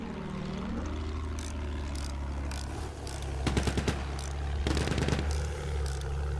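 In the Battlefield 1 game, a propeller plane drones overhead while anti-aircraft guns fire rapid bursts of loud, close gunfire in two main volleys, with a few single shots in between.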